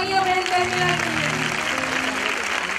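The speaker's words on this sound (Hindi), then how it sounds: "तो जोरदार तालियां बहन तहमीरा के लिए" Audience applause at a Christian worship gathering, a steady wash of clapping hands sustained through the whole moment, with some overlapping voices and music tones beneath.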